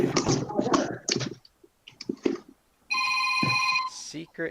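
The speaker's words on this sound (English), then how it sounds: "Somebody's ringing. Should I get that?" A phone rings with a steady electronic tone lasting about a second, following stretches of speech and a few clicks, close and clear.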